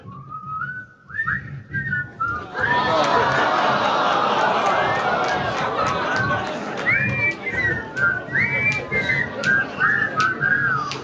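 Someone whistles a bright, wavering tune of sliding notes near the start and end, while noisy crowd chatter swells loudly through the middle.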